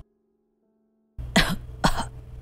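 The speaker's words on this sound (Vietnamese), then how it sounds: "Mãi một lúc lâu sau, ngoại mới ho lên một tiếng." After a moment of near silence, an elderly grandmother gives two sharp, close coughs about half a second apart as a sound effect in an audio story.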